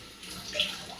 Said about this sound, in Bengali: সব ধুয়ে নিলাম।